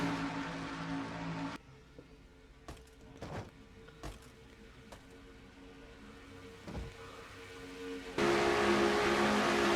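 Stock cars race through a turn in a racing video game, engine drone mostly quiet and distant with brief sharp bursts, then swelling to a louder, fuller roar at the close.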